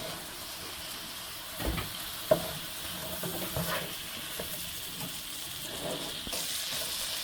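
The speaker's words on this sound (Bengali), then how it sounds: "মাছটা একটু লাল করে ভেজে নিলাম হালকা।" Fish fries lightly in oil in a pan with a soft, steady sizzle close by, marked by a few faint clicks and pops, and no one speaking.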